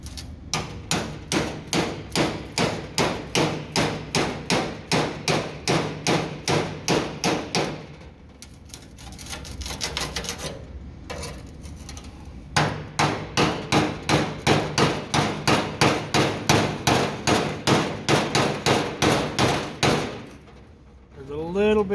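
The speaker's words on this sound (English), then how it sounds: "So you kind of got to punch all the way through those just to make sure that you get all of that spot weld off." Steady, rapid hammer blows drive a punch through spot welds on a car body panel, a long run of loud metallic strikes that pauses midway and then resumes at the same rhythm.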